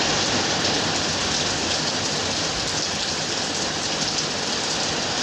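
Rain falls steadily, a continuous even hiss of drops on surfaces with no other sounds standing out.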